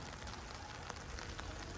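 Steady rain falls outdoors over a garden with a large climbing rose, a soft, even hiss with occasional faint drops, no voices.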